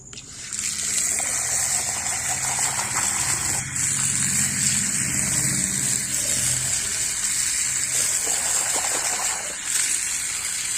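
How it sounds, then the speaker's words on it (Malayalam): Running tap water pours steadily over a cup as it is washed, a continuous loud gushing that fills the whole stretch with little change. "ഇതാ ഞാനിവിടെ കപ്പൊന്ന് കഴുകി കാണിക്കാം"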